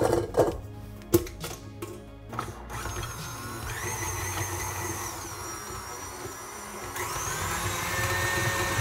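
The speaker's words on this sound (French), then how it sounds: "vous allez pouvoir le mettre directement sur la machine à fouetter" Stand mixer whisking soft unsalted butter for a galette des rois frangipane, with clattering handling knocks at first, then a steady whirring motor hum that rises in pitch, loud and close.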